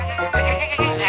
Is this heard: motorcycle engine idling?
no